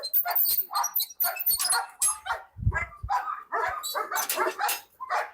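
Several dogs at a large dog-breeding farm in Bangladesh bark and yip in rapid, overlapping bursts, loud and close, with a few whimpers mixed in.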